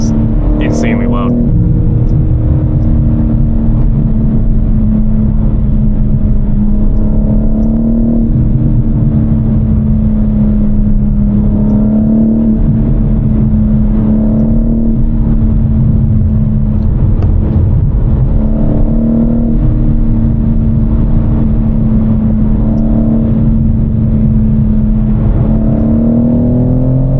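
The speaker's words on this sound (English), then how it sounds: "Try not to talk over it so you guys can hear the exhaust a little bit" A BMW M4 sports car's exhaust droning loudly from inside the cabin during a late-night drive, a steady low roar with slight swells in pitch, close and constant throughout.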